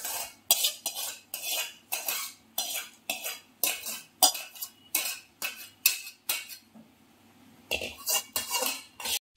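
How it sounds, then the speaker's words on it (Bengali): A metal spoon scrapes and clinks steadily against a pot while thick payesh, a rice pudding, is stirred, giving a regular rhythm of close, sharp strokes that pauses briefly before resuming. "পায়েস মাঝে মধ্যে একটুখানি এরকম স্টেয়ার"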